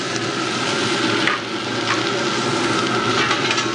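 Carrots and frozen broccoli sizzle on a hot BBQ griddle insert, a loud, close, steady frying hiss with faint stirring scrapes and no talking.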